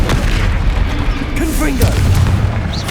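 Confringo fire-spell explosions in Hogwarts Legacy during a combat trial, heavy booming blasts layered with crackling bursts in dense, loud succession, with a voice speaking over the action.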